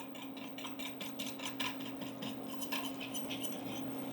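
A metal whisk scrapes and stirs flour in a pan on a burner, making quick, soft rhythmic scratching and clinking close by, with a steady hum underneath.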